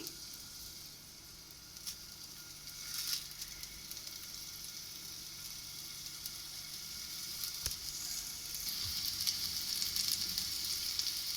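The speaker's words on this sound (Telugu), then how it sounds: "ఈ ఆయిల్ హీట్ అయిన తర్వాత ఇందులో మనం క్యాప్సికమ్ పెట్టుకుందాం" Capsicum (bell pepper) pieces fry in hot oil, giving a steady close sizzle that crackles throughout and grows slightly louder toward the end, with no one speaking.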